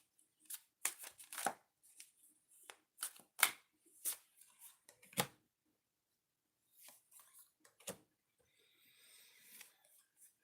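Oracle cards are shuffled in close, crisp riffling bursts separated by short pauses, quiet and intimate with no talking.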